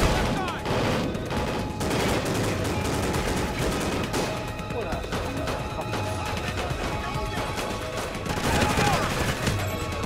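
Rapid bursts of gunfire in a Call of Duty Ghosts firefight crackle loudly in irregular volleys, with sharp cracks and heavier thuds, and a voice shouts now and then amid the shooting.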